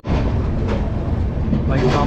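A train pulls into Kamakhya railway station in Assam, where houses stand right beside the tracks. It makes a loud, steady rumble of rolling rail cars close by, with faint voices mixed in.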